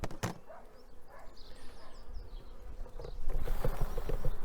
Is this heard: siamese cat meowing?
no